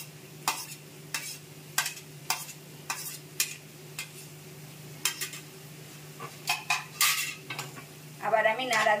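A spatula repeatedly clinks and scrapes against a pan while onion, ginger and garlic are stirred. The sharp metallic taps come in an uneven rhythm over a faint sizzle, and a brief rattling clatter follows at the end.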